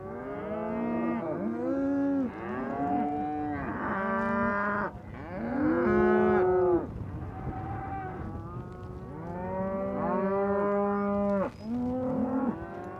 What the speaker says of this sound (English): These cows are looking for their babies.